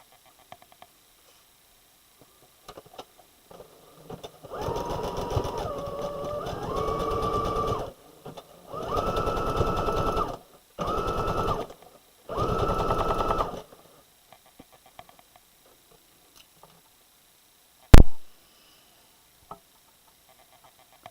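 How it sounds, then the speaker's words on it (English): A sewing machine running a regular zigzag stitch with the stitch length at zero, whirring in four close bursts separated by short pauses, ending with a sharp click. "it's just a regular zigzag, and I'm just going to zigzag around all of this."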